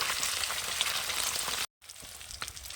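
Pieces of Nile tilapia hit smoking hot oil in a pan, raising a loud, dense hiss and sputter, then after a brief silence the frying resumes with softer sizzling and scattered pops.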